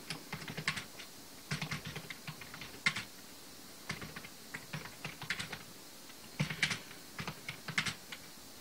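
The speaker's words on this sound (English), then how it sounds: "I just typed" Irregular bursts of clicking keys on a computer keyboard as someone types prose, quick clusters of keystrokes separated by brief pauses, close and fairly quiet with no voices.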